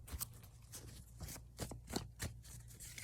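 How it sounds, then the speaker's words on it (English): Tarot cards being shuffled by hand during a reading, a quiet run of soft riffling swishes and light taps in short bursts, close and faint. "I've already started shuffling, but just so you guys can see I shuffled, I'm gonna shuffle some more."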